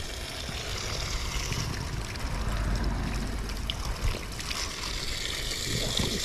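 Spring water gushing from an outlet beside the Appalachian Trail on a bikepacking trip, a steady close splashing flow that runs continuously without pause or voices.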